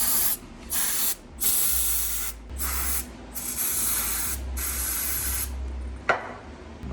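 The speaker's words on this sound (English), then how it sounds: "I like to take a brake cleaner and clean this thing." Brake cleaner sprayed from an aerosol can onto a part of a Stihl MS661 chainsaw, five or six short loud hissing bursts with brief gaps, then a small clack.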